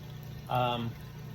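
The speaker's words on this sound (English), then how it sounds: "the vacuum's pulling all that through" Vacuum pump drawing liquid through a filter during aspirin filtration in a chemistry lab, a brief gurgling, bubbling rush lasting under half a second over a faint steady hum.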